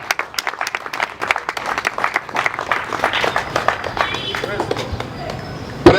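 An audience applauds and cheers for the election of a committee president, with dense clapping that swells and then tapers off, while a voice speaks over it.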